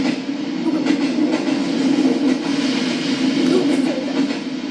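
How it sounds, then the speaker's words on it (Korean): A passenger train runs on rails with a loud, continuous rumble and faint rhythmic clatter throughout, close and steady, with no voices. "우리 여행 갈때 타시는 기차입니다."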